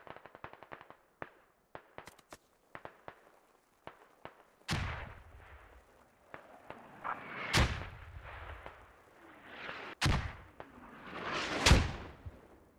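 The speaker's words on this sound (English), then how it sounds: "Somebody's got to guide in these mortars." Video game battle with mortars, scattered sharp gunshots, then several heavy booming impacts and explosions rolling out one after another, loud and near, with no talk.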